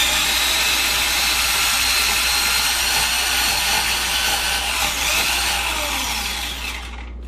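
Food processor pulsing a batch of mushrooms for a meaty plant-based breakfast sausage, a loud continuous whirring chop that holds steady for about seven seconds before easing off at the end.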